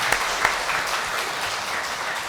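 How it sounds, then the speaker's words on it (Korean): A church congregation claps during a Sunday worship service after the choir sings a hymn. The steady applause is moderately loud, with a couple of sharper claps near the start. "우리 박수하겠습니다."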